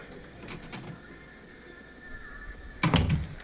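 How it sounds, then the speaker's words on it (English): A door in a film closes with a sudden heavy thunk near the end, loud and close after quieter scattered knocks and a faint background hum. "Great door closing sound effect, I thought."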